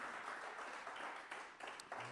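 A gathered church congregation in Madrid applauding, a faint, steady wash of clapping from many hands held at an even level throughout, heard from a distance with no speech on top.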